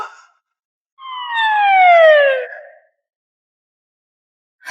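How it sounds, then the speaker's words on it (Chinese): A high-volume loudspeaker alarm wails once in a loud falling-pitch sweep lasting over a second, sounding close and alone, with brief sharp bursts at the start and end. "我已经远程开启了强光爆闪和高音喇叭。"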